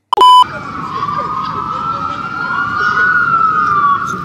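An ambulance siren wails along a city street in the US, a loud sweeping tone that rises and falls steadily over constant traffic noise after a brief sharp burst at the start.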